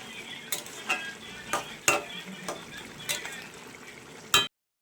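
Bottle gourd and shrimp curry cooking in a pan with sugar added, a spoon scraping and stirring through it in about seven quick, rhythmic strokes over a soft simmer, cutting off abruptly.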